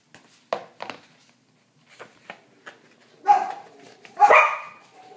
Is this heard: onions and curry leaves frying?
no